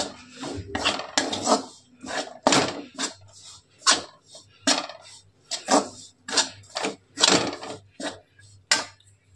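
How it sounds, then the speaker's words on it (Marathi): Besan flour roasted in a pan for vadi, with a spoon repeatedly scraping and clinking against the pan in an irregular series of close, sharp strokes over a low hum. "असं बेसन पीठ भाजून घेतलं तर खाताना आपल्या वड्या कच्च्या लागत नाही"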